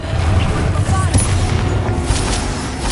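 Bombarda spell blasts in Hogwarts Legacy, a dense, continuous rumble of booming explosions under a constant loud wash of noise, with a voice shouting spell names over it.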